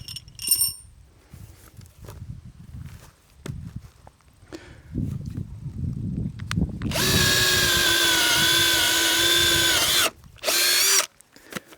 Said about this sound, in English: I'm going to start drilling on this end